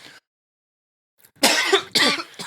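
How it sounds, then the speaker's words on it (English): A man gives two harsh, close coughs in quick succession, the lingering cough he has had for about two years, after a short murmur and a pause of silence. "you still got that cough after 2 years?"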